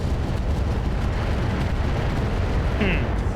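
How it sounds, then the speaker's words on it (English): In the RogueTech mech game, a mech fires AX rounds at an Orion: a dense, continuous roar of heavy booming blasts and rumble, loud and unbroken throughout. "I think we'll fire on the Orion with AX rounds here"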